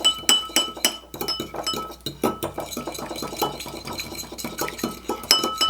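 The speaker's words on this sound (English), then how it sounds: "And we're going to whisk this together." A whisk clinks rapidly and steadily against a bowl while mixing butter, parsley and garlic powder, close up, with a bright, rhythmic metallic tapping.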